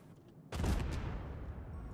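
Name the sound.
explosion in video game Star Citizen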